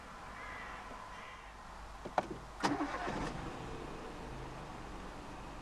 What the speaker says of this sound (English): Put your foot on the clutch and press the start button to the left of the steering wheel.